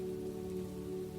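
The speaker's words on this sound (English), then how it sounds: "He heard the rain on rooftops." Steady rain falls on rooftops and stones, a soft continuous patter with an even hiss and low rumble, no distinct drops standing out and no voices.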